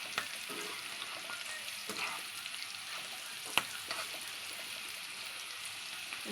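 Ingredients for nalleru (veldt grape) pickle fry in a pan with a soft, continuous crackling sizzle and faint stirring, punctuated by one sharp tap midway.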